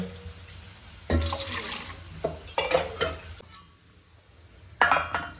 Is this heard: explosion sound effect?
no